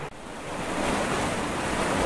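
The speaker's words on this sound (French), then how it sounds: "c'est vrai qu'on a un gros débit hein, sur les ruisseaux comme ça, là, qui se transforme en rapide" Rushing forest stream running through woods, swollen by recent rain into rapids, producing a steady, loud broadband roar of churning water close by, with no voices.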